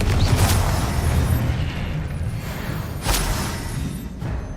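Booming Confringo spell blasts in the wizarding game Hogwarts Legacy, rolling low explosions and thumps in a continuous rumble of combat with a couple of sharper bursts.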